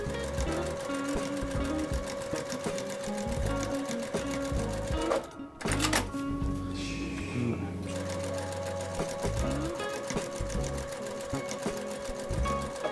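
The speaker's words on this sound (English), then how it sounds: "So now I'm going to go ahead and sew these blocks all together now." A sewing machine stitching quilt blocks together, running in steady rapid mechanical bursts with a brief pause midway, close and continuous, with a person talking over it.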